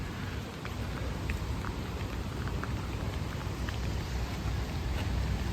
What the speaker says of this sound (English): it's gonna be raining like non-stop until I finish and after